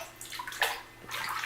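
A hand sloshes and swirls water in a bathtub tinted green by a Crayola jelly bath bomb, with a brief close splash and gurgle, no talking.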